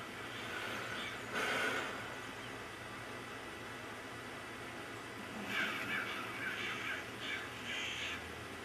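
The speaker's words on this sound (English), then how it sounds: "Dang birds. Scare the crap out of me." Crows in Fable 3 cawing in harsh bursts over a steady low ambient rumble, a loud call near the start and a cluster of repeated caws later on, fairly close; no speech.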